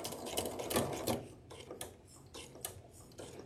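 Sewing machine running a back stitch, close rapid mechanical ticking and whirring that runs strongly at first, then eases into lighter intermittent clatter.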